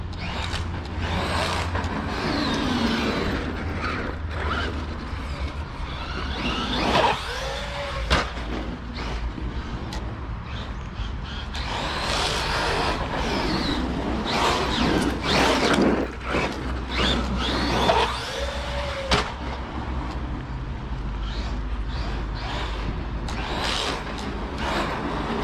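Traxxas Widemaxx RC car on new heavy tires running at full throttle in an urban area, a steady whining motor drone with tire scrub, clunks and occasional rising squeals through the whole stretch.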